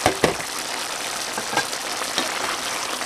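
Pineapple chicken seasoned with fish sauce and bay leaf simmers in a pan, giving a steady, close bubbling sizzle with a few soft clicks and pops along the way.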